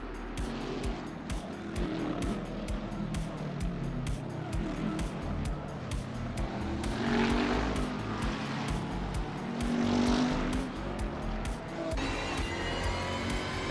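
Race cars in an AI racing video game, a continuous blend of engine drone and tire noise with rising whines from passing cars, heard faintly beneath commentary.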